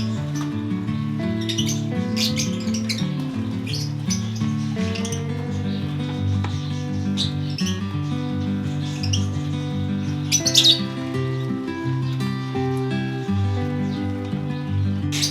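Exotic birds in a breeding aviary chirp and squawk in scattered bursts, with sharper calls standing out around the middle, over a steady low droning background.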